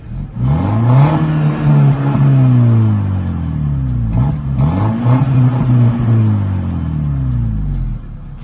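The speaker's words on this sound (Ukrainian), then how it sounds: "давайте я вам її заведу, щоб ви послухали, як вона ручить" BMW 318i car engine turning over and running, with two rising revs that swell and fall back to a steady idle, heard close and loud with no speech.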